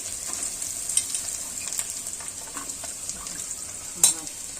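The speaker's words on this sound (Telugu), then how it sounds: "ఇప్పుడు ఉల్లిపాయలు వేసేసుకోవచ్చు ఉల్లిపాయలు కరివేపాకు పచ్చిమిర్చి" Onions, curry leaves and green chillies frying in oil in a pan for a tamarind-leaf curry, giving a steady close sizzle with a few sharp stirring clinks and scrapes and no voices.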